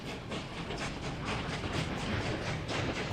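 A steam train runs in the Soviet-era city-building game Workers & Resources, giving a faint, steady rumble with rhythmic clickety-clack pulses under a light hiss.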